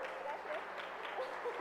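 A church congregation claps softly and steadily in the distance, a faint, even patter with a little murmuring beneath it.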